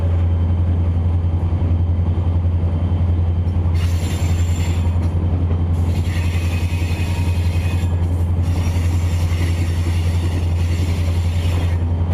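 CSX locomotive 6914, a Chessie heritage unit, rumbles past loud and close with a steady low engine drone, wheel and rail noise riding over it, and brief squeals partway through.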